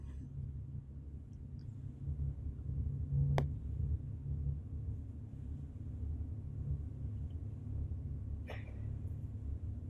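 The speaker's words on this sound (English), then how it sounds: "The soft sound that you're hearing that sounds like air or rumbling or maybe thunder far away is Eliane's piece." A low, steady rumble fills an art installation in a darkened exhibition space, soft like moving air or far-off thunder, continuous and even throughout, with a couple of brief faint clicks standing out above it.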